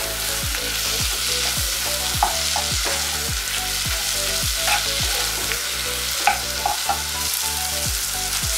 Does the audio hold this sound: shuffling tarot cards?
no